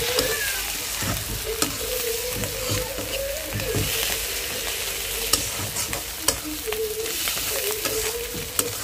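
Fish roe frying in a pan, a steady close sizzle with repeated scraping and stirring strokes and occasional clinks, no talk.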